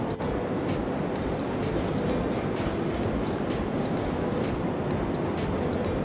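A train pulls iron-ore railcars in the Railroads Online video game, giving a steady, loud rumble with faint rhythmic clicking of wheels on track that runs unbroken throughout, with no talk.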